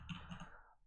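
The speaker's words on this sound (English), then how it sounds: "I am typing" A few quick keyboard clicks of typing on a computer keyboard while writing Flutter app code, very faint and short, with no voices.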